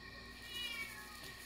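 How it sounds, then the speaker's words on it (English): A cat meows faintly in the background of a home kitchen where smoked corn is being prepared, a soft drawn-out call set against low room noise. "and the cat in the background."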